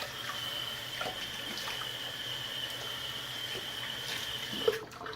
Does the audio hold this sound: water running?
yes